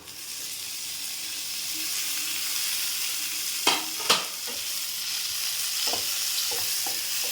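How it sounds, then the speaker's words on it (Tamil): Onions and tomatoes frying and being stirred in a pan for a bottle gourd and pea gravy, giving a steady close sizzle with a few sharp clattering stirs midway and softer scrapes later. "இப்போ வெங்காயம் வதங்கிடுச்சு, நம்ம தக்காளி சேர்த்துக்கலாம்."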